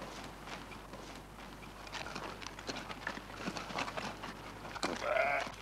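Sheep bleating on a farm, several short calls scattered through the stretch and a louder, clearer bleat near the end, with faint footsteps and shuffling in the background.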